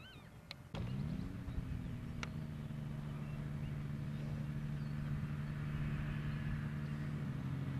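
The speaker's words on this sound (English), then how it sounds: "his engine sounds nice and smooth" A powered parachute's engine runs as a steady, smooth droning hum outdoors. It starts abruptly after a couple of faint clicks and holds a constant low tone throughout, with no talk.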